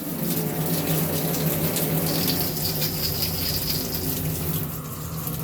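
A shower head runs at full, high flow on hot water, a steady, loud rush and hiss of spraying water with a constant low pump-like hum beneath, and no talk.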